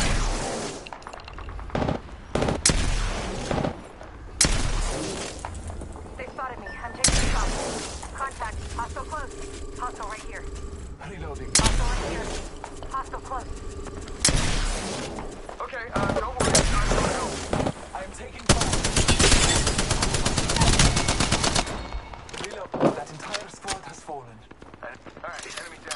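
Rapid gunfire bursts and booming shots from the video game Apex Legends crackle loudly and repeatedly, overlapping with in-game voice callouts and mechanical effects.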